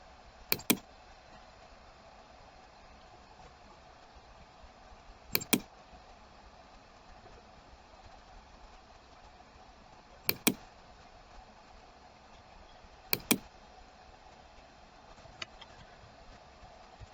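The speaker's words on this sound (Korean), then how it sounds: "이렇게 영역을 드래그를 해주시고 마우스 우클릭을 해서" Sharp computer mouse clicks, including right-clicks, come in quick pairs, spaced several seconds apart, over a faint steady hum with no talking.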